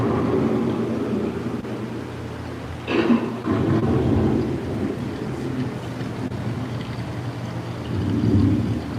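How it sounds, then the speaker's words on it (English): Simulated thunder and rain inside an indoor EPCOT boat ride, a low rumbling wash of noise that swells and recedes with a sharper crack partway through, no talk. "turns out it's raining inside"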